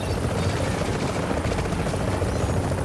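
Helicopter in The Division video game flying in for a Dark Zone cargo extraction, a steady loud rotor roar filling the whole stretch with no break.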